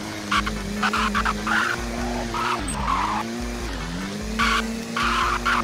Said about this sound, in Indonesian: Ini kita coba tes mobil ini di jalur off-road BSD coy.